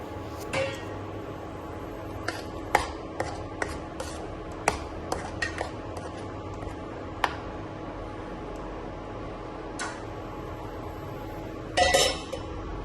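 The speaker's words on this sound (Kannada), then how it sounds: "ಅದಕ್ಕೆ ನಾವು ರುಬ್ಬಿರುವಂಥ ಮಸಾಲೆ ಇರುತ್ತೆ, ಅದನ್ನು ಕೂಡ ಅದಕ್ಕೆ ಸೇರಿಸ್ಕೊಳ್ಳಿ. ಚೆನ್ನಾಗಿ ಮಿಕ್ಸ್ ಮಾಡಿಕೊಳ್ಳಿ." Ground masala is mixed into a pea gravy in a pan, heard as scattered light clinks and taps of a spoon on metal over a quiet background hum, with a brief cluster of clatter near the end.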